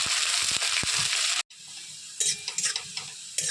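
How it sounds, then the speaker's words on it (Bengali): Chopped onions frying in hot oil in a home kitchen, giving a steady close sizzle that briefly cuts out and then returns quieter, with scattered spoon-stirring clicks. "পেঁয়াজগুলি ভাজা হয়ে গেছে, লাল লাল হয়ে গেছে"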